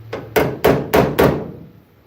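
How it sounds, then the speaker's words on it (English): A body hammer strikes a car's steel body five times in a quick, even rhythm, each blow sharp and ringing briefly, close by with no talk. "This just happened to be the only body hammer, the only good hammer I had at all here"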